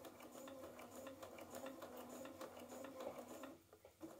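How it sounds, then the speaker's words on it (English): A sewing machine stitches quilt pieces for a star quilt, running steadily in a continuous whirring drone for about three and a half seconds before slowing and stopping. "I'm going to just stitch a couple stitches, and then I'm going to go ahead and stop"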